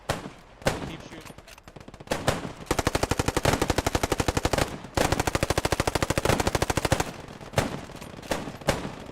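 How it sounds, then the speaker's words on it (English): Gunfire in the video game Post Scriptum during a realism event: loud, rapid machine-gun bursts with a few single shots between them, with two long sustained strings of automatic fire. "Keep shooting"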